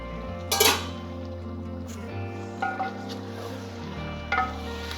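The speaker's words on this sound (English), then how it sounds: "Open the lid and make sure to mix the chicken once." Gentle scraping and stirring of chicken biryani in a pot over a soft sizzle, with a few brief clinks of a utensil against the side.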